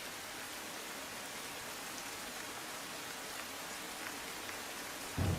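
Heavy rain pours steadily in Tapi district, Gujarat, a dense, even hiss that stays loud and unbroken throughout, with no voices over it.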